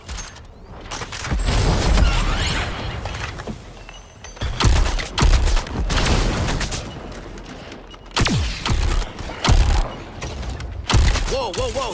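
Cannons fire in Suicide Squad: Kill the Justice League gameplay, heavy booming volleys in repeated bursts with thuds and mechanical clatter, loud and close, mixed with game effects.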